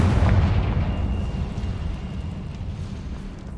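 A single heavy blast from the Confringo explosive spell in Hogwarts Legacy, a deep booming burst that fades out over a few seconds with no voices.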